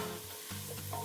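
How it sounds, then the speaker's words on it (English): Onions sizzle steadily in a pan over medium-high heat as they are given a quick stir, a close, continuous frying hiss with a soft scrape of the stir. "We're going to give this a quick stir, and we're going to let these cook for about 5 to 6 minutes, medium-high heat"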